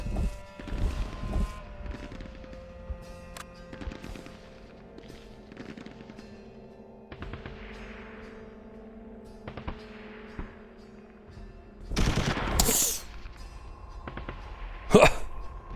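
Machine gun fire in the WW2 tactical game Tigers on the Hunt: sharp bursts and scattered shots over a quiet background, with a loud rattling burst near the end and a final sharp crack.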